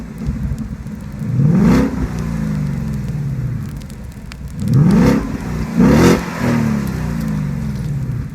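Eight-cylinder engine on a Suzuki Swift revved hard in three loud bursts, each rising and falling in pitch, with a lower idle murmur between them.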